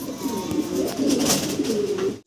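Several Giribaz pigeons coo continuously and close up, a dense, rolling murmur of throaty calls with no voices.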